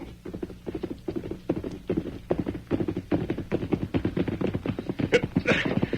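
Rapid clip-clop of horse hooves from an old-time radio drama, a busy galloping patter that runs steadily throughout, with a brief higher burst near the end.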